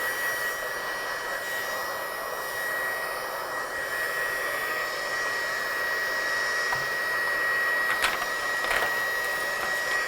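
A handheld blower gun dries a watercolour stamping project with a steady, moderately quiet whooshing drone. The airflow holds constant throughout, with only slight swells near the end.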